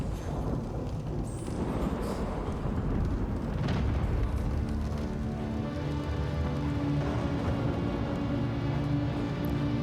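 An A2 bomb explodes in Star Citizen as a deep, rumbling boom that swells near the middle and fades into a long, low roar with a faint sustained tone.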